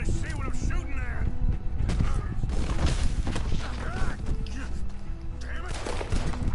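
Dense gunfire rattles through a night shootout in Red Dead Redemption 2, with repeated shots and bursts over a constant loud din, along with horse sounds and voices.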